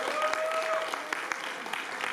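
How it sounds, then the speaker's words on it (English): An audience at the Gujarati Unity Festival 2025 applauds Rajiv Satyal, a dense, steady wash of clapping that holds at an even level from start to finish. "A big round of applause for Rajiv Satyal."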